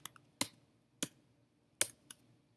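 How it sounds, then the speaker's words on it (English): Three initials typed on a computer keyboard: a handful of sharp, separate key clicks spaced irregularly, close and clear against a quiet background. "I'm going to click in here and I'm going to type my 3 initials"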